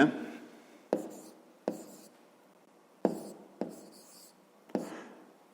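A pen taps and scratches on paper in six short bursts, each starting with a sharp stroke and fading, while a math exercise is written out by hand close up in a quiet room.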